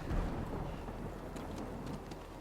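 Steady rain hisses over a low, rolling rumble of thunder in the video game Death Stranding, a continuous stormy wash with no voices.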